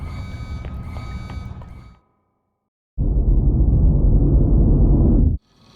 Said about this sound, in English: Something has set the alarm off.